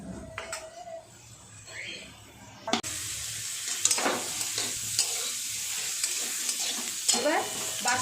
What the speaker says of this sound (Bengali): আমি একটু চাপা দিয়ে ভালো করে এগুলোকে ভাজা করে নেব